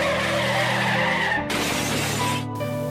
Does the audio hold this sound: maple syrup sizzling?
no